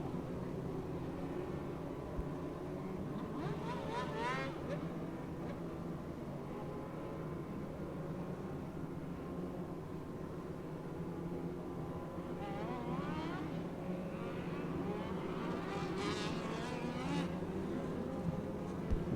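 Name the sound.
race car sliding to a stop in the infield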